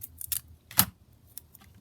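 A sheet of card being cut down the middle with scissors, heard as one crisp close snip between a few lighter clicks and rustles.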